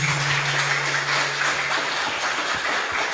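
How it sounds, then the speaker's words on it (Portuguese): A church congregation claps for Jesus, a dense, steady applause sustained throughout at fairly close range. "Eu quero pedir mais uma salva de palmas para Jesus."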